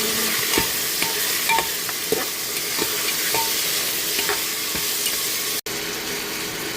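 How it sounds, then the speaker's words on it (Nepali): Buffalo meat fries in a salted pan with a continuous close sizzle, broken by repeated light scrapes and taps as it is stirred, and there is one abrupt cut near the end; no one speaks. "मजाले भुट्न दिन्छु"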